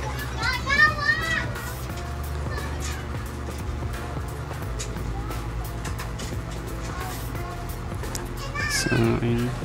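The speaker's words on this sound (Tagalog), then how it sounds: "Ingay talaga ng mga bata." Children play noisily in the background, their overlapping chatter and occasional squeals running under a steady low hum, with a louder burst of voices near the end.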